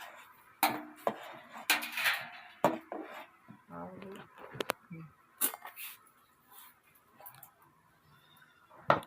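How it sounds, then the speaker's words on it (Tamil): Flour being stirred into a pot of boiling water and coconut to make kali, a ladle or spoon scraping and knocking against the pot in irregular clanks and scrapes, with quiet pauses between strokes. "மாவு ஒன்றே போட்டு கிண்ட போறீங்களா?"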